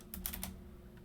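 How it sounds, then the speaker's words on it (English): Typing a command on a computer keyboard while configuring OSPF debugging on a Cisco router: a quick run of about four or five crisp, close keystroke clicks, then a lone faint tap near the end. "I am going to come down here and type in debug OSPF."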